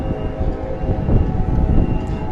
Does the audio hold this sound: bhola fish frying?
no